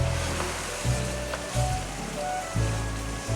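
Minced meat and finely chopped tomatoes roast in a pan for a tandoori keema, giving a steady soft sizzling hiss with a few dull low bumps from the pan, fairly quiet and without voices.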